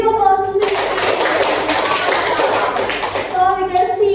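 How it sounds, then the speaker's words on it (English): Classroom applause bursts out between spoken lines at a microteaching session, a dense wash of clapping hands from a group of students lasting about three seconds, with voices talking just before and after. "Give applause to Sisi."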